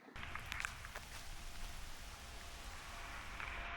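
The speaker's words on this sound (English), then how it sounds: "It's raining again." Steady rain hisses all around, with a few brighter drops and light ticks standing out against the continuous wash.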